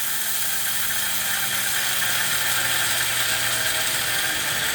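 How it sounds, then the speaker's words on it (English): A grinder whirs loudly and steadily as it grinds about a cup of brown flaxseed, a continuous harsh mechanical roar with a rattling edge that holds without pause from start to finish. "Grind them up."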